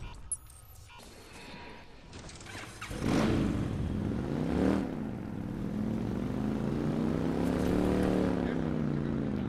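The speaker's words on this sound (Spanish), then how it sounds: "Ahí está la moto." A motorcycle ridden in Watch Dogs, its engine droning steadily and loud with rising and falling revs across most of the stretch, while a voice speaks briefly early on.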